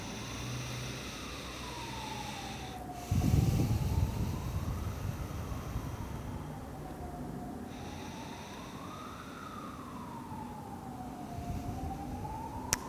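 A passing emergency vehicle's wailing siren rises and falls slowly and repeatedly at a moderate distance, over a low background hum, with a brief thump early on.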